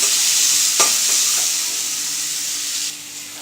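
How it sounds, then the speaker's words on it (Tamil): Ginger garlic paste and salt sautéing in a pan for a vegetable paneer pulao make a close, continuous sizzle. A few sharp stirring scrapes sound early on, and the sizzle softens slightly toward the end. "ஜிஞ்சர் garlic பேஸ்ட் போட்டோன்னே இப்போ சால்ட் போடுங்க. கொஞ்சம் நல்லா வதக்கணும்."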